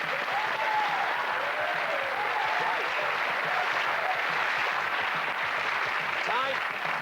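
A game show studio audience on the 1992 quiz programme Going for Gold claps and cheers in a steady, dense burst of applause, with scattered whoops and whistles rising above it throughout.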